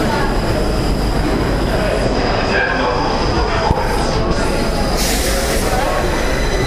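Stockholm metro train running with a steady loud rumble and rail noise throughout, faint wheel squeal and clatter on top.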